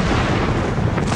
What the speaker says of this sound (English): a giant artillery barrage intended to soften up the Union defenses before the attack began with a deafening explosion.